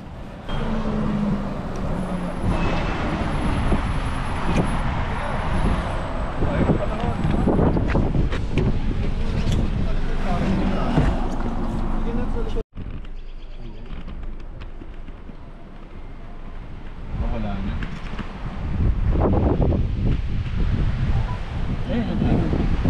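Steady wind buffets the microphone with a loud continuous rumble in Algonquin Park, Ontario, while voices talk faintly underneath.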